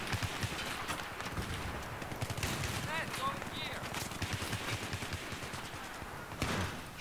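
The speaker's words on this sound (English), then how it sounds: "Shotgun." Shotgun fire and rapid gunshots during a Battlefield 3 team deathmatch on the Canals map, with sharp repeated bursts over busy, continuous battle noise and a louder blast near the end.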